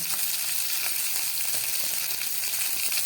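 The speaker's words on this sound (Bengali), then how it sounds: "এর মধ্যে আমি দিয়ে দিচ্ছি কিছুটা কালো জিরে ফোড়ন" Kalonji (black cumin) seeds sizzle in hot oil in a wok alongside pan-fried bhola fish, a steady dense crackling hiss that stays loud and close throughout with no voices.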